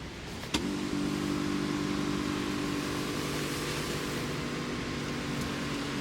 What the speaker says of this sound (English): And we can even move our seat.